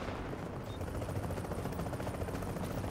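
A helicopter in The Division, a steady dense rotor rumble and thudding wash that fills the scene, loud and continuous with no break.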